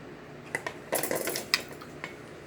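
Kitchen scissors snip string off a fish fillet: a handful of quiet, sharp metallic clicks and snips spaced irregularly, close by in a kitchen, with no talking.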